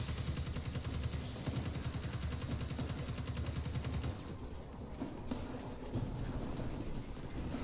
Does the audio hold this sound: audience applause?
no